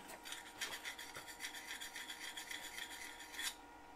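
A Colt Forstner bit is hand-sharpened with a file in a rapid series of short, rhythmic rasping strokes, quiet and close, ending with a slightly louder final scrape.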